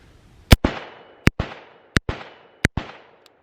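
An AR-style carbine fires at targets from about 25 yards, with four sharp, loud shots spaced roughly evenly and each followed by a short echoing decay.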